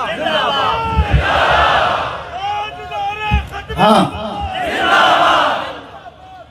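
At a Khatm-e-Nabuwat conference, a large crowd loudly answers a leader's call of Nara-e-Takbeer with a massed religious slogan. The chant swells twice in strong waves, and speech comes between the shouts.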